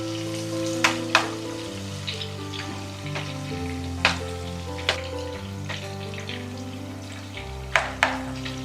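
Prawns for pickle frying in a pan, a steady sizzle close by, punctuated by several sharp spattering pops and clinks at irregular intervals, with no talking.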